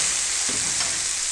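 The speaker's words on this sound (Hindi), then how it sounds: "इसको हम शामिल कर लेंगे प्याज के साथ और भून लेंगे।" Chopped green chillies frying with onions in a pan for khagina, an egg dish, giving a steady close hiss of oil sizzle with a few soft stirring scrapes.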